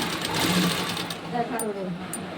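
A sewing machine stitching blouse fabric, a steady close mechanical whir running throughout with a continuous rhythmic hum, while someone talks over it.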